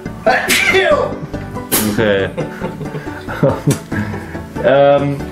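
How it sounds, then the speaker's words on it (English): A man sneezing from cat allergies, several loud close sneezes and throat sounds mixed with nearby talking. "sneezing and blowing his nose from his allergies of my cats"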